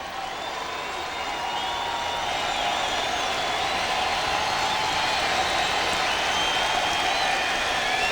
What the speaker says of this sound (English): Crowd gets back into it.